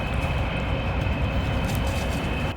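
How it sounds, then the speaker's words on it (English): A passing train roars steadily at close range, its dense rumble unchanging for a few seconds before easing slightly at the end, with no voices. "Excuse that train, you know, they always turn up when I'm trying to film something."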